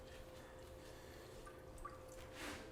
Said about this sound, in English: Just squeeze any of the extra water out of it.